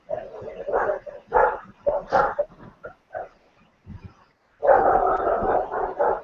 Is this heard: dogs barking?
yes